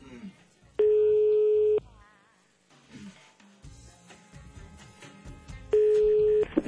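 A telephone call is placed on a landline, with two long steady tones sounding loud and clear between stretches of background talk and studio noise.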